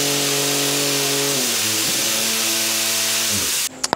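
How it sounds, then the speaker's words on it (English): A 3D printed wheel whirs at very high speed with a strong tonal whine that sags and shifts pitch, then ends in a sudden burst of cracking noise as it breaks apart. "So I guess the 3D printed wheel is too weak to survive spinning this fast."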